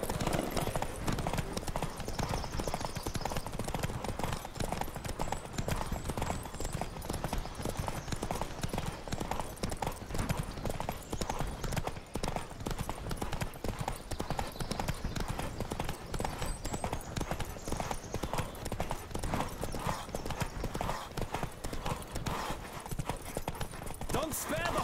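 In The Witcher 3, a galloping horse's hooves beat in a fast, steady clip-clop rhythm throughout, with occasional whinnies and a voice talking over the hoofbeats.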